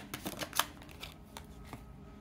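A single card is drawn from a deck during a tarot-style reading, with quick soft rustles and a couple of crisp flicks of cardstock, close and quiet.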